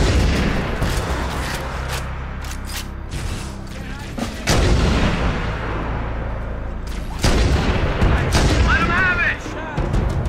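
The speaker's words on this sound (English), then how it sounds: "I've detected Covenant stationary guns near the next pass." Stationary Covenant gun emplacements fire in Halo: Combat Evolved, a dense run of booming shots and blasts over steady battlefield rumble, with louder bursts near the middle and end.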